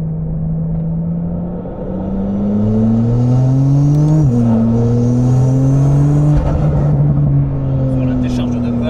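An RML GT Hypercar's roughly 850-horsepower engine in sport mode pulling hard, a loud droning note climbing through gears with a shift near the midpoint, heard from inside the cabin while someone talks over it.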